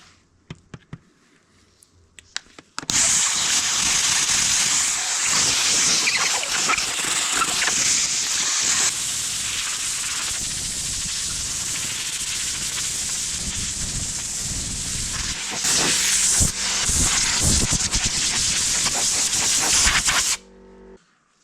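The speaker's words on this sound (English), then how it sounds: "we got a little bit of exhaust leak inside the filter housing" Steady broadband hiss from an exhaust leak inside the filter housing of a Bobcat 751 skid-steer, loud and close, starting abruptly and running continuously for most of the clip before cutting off near the end.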